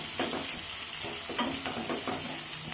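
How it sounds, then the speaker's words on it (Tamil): Chopped onions frying in hot oil with popped mustard seeds for a bitter gourd stir-fry, giving a steady close sizzle with soft stirring scrapes and no talk. "கடுகு பொரிஞ்சிட்டு இன்னும் வெங்காயம் போட்டுக்கலாம்."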